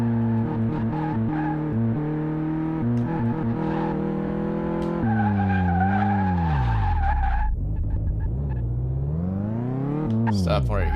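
Car Mechanic Simulator game car braking hard on a test drive, engine tones sweeping and dropping with tire skid, loud and continuous, with game sounds and no talk.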